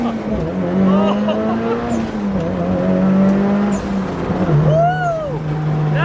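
A BMW G80 M3 Competition fitted with an iPE exhaust pulls hard under acceleration, a loud close engine roar rising through the gears with shift breaks, while people in the car talk and exclaim over it.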